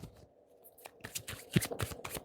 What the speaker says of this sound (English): If nothing falls out on this last shuffle, then I'm going to leave it.